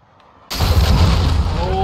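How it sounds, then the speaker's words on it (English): A cruise missile strike in Call of Duty Modern Warfare hits after a quiet moment with a sudden loud blast, then a sustained rumbling roar that stays close and heavy. "Enemy cruise missile incoming."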